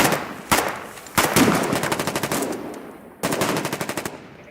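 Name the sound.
machine gun fire in Foxhole video game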